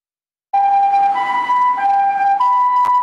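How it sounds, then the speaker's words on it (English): A loud ambulance siren starts suddenly after a moment of silence and wails back and forth between two tones, close and continuous. "So here's an ambulance siren."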